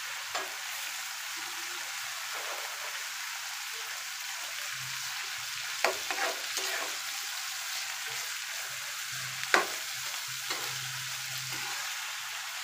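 Cut bean pieces frying in a pan of cooked-down spice masala, a soft steady sizzle under occasional scrapes and clacks of stirring, with a couple of sharper knocks; no talking.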